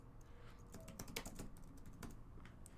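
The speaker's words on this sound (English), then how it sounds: "No, that's some terrible typing there." Rapid, uneven typing on a computer keyboard, close and fairly quiet, a burst of clustered key clicks with brief pauses and no voices.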